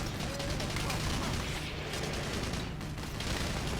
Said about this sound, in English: I guess that was the missiles.